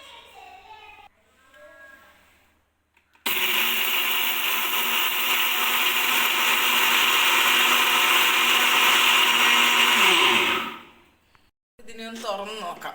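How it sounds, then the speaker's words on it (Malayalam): A kitchen mixer grinder whirs loud and steady for about seven seconds, grinding dried milk with sugar into powder, then winds down. Talk comes before and after the run. "നമുക്കിതിന് മിക്സിയിലോട്ട് വെച്ച് പൊടിച്ചെടുക്കാം"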